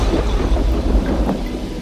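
Heavy rain pours steadily while low rumbling thunder rolls beneath it, a dense continuous wash of sound with no voices.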